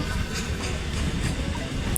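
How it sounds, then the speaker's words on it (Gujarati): A train arriving at a village railway station in Gujarat rumbles steadily close by, a continuous heavy low roar with a faint metallic hiss above it and no voices. "ટ્રેન આવી ગઈ છે"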